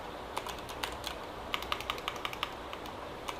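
Close, quick clicking keystrokes on a computer keyboard, about a dozen light taps in an uneven rhythm, while commands are entered on a server, with a quiet background and no talk.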